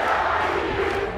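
A dense, loud roar from an MMA event crowd at Jungle Fight 64 cheering for local fighter Otávio Javali, a brief sustained wash of massed voices with no single speaker standing out.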